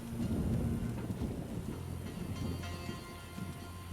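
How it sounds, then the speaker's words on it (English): Steady rain with deep rolling thunder from the video game The Witcher 1 Enhanced Edition, a dense continuous wash with a low rumble building early and fading, no voices. "It is raining."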